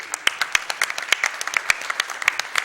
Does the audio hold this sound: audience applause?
yes